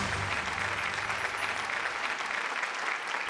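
An audience at an insurance awareness awards quiz show in Mumbai claps in a steady, sustained burst of applause that fills the room at even loudness throughout.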